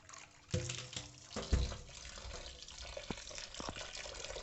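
Water runs and splashes faintly while curdled-milk chenna, split with lemon or vinegar, is rinsed in clean water for rasmalai, with a few louder gushes early on and light trickles and drips afterward, no talking.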